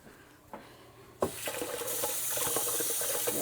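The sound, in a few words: running water washing straw off a butchered chicken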